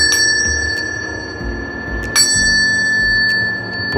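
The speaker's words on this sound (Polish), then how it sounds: "tu w sterówce, bijąc w miniaturowy dzwon" A miniature ship's bell in the wheelhouse of the sailing ship Union rings with two bright strikes, one at the start and one near the middle, each ringing out over a low engine hum.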